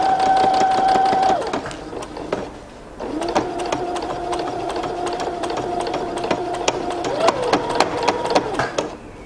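A domestic sewing machine stitches fabric for drawstring pants, its motor whirring in steady bursts with brief pauses between runs and a faint voice underneath.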